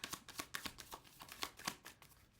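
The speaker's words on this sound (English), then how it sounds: "let's pull some cards now" Tarot cards shuffled and pulled in a quick, rhythmic run of crisp riffling slaps, close and fairly quiet, with no talking.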